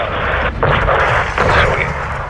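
An airstrike levels a greenhouse in Call of Duty: Modern Warfare 2, a loud sustained roar of heavy explosive fire with surging blasts and rumbling debris.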